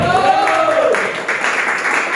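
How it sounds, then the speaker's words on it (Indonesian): A church congregation claps after a sermon session, a brisk patter of many hands that swells after a brief voiced tone at the start and continues steadily to the end. "Tepuk tangan dulu buat Tuhan kita"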